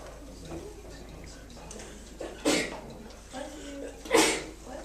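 Two short, sharp sneezes burst out a couple of seconds apart over a quiet classroom with faint murmuring and small background noises.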